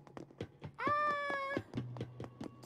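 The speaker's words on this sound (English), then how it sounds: "Cute kitty." A cat meows in the video game Animal Crossing: New Horizons: one clear, drawn-out, tonal meow in the middle, set against soft rhythmic plucked game music.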